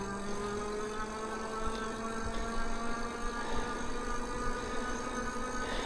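Steady electric hub motor whine from a Blix Vika X e-bike running on throttle alone, a smooth rising tonal hum with road and wind noise, no one talking.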